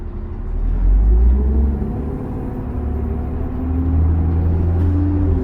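City bus rolling along, heard from inside the cabin as a low steady engine rumble that swells and eases slightly as it drives, with no voices over it.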